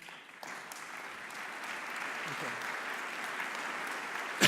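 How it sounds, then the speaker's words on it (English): Audience applause at an OPEN 2017 conference talk, dense even clapping from a crowd building slightly and holding steady, ending with a sharp burst near the close. "Should we give them some applause?"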